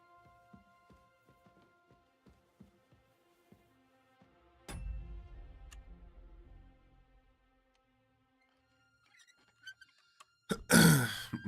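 A sick man clears his throat and coughs near a microphone, a few short rough bursts after a quiet stretch with faint tapping, and a louder cough burst near the end.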